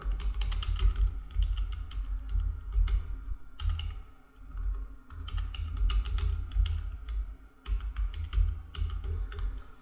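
A business name typed on a computer keyboard while filing an ITR 4 tax return, with irregular bursts of close, crisp key clicks over a low rumbling background and a short pause midway.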